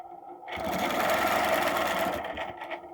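A sewing machine stitches across blue fabric, its motor starting after a brief pause and then running as a loud, steady whir for about two and a half seconds before easing slightly toward the end.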